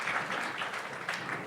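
Applause follows a call to clap for Deputy CM Vijay Sharma during an interview, a steady, moderately faint wash of many hands clapping throughout with no talk over it.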